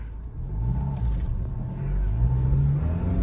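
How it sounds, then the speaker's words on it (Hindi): A Mahindra Scorpio N with manual transmission revs and pulls hard in second gear, its engine a loud, low rumble rising steadily in pitch from inside the cabin, with no talking over it. "अब मैं इसको रेसूँ, अब देखो दूसरे गियर पर ना ये उठती चली जाती है गाड़ी"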